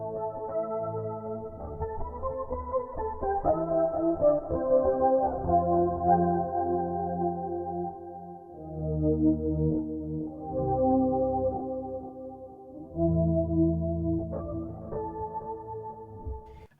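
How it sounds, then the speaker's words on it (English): Guitar through a Darkglass Anagram with the second pitch shifter on, playing phrased chord passages with brief dips between them, full and moderately loud with layered shifted tones and no voices. "Scene C has the other pitch shifter engaged"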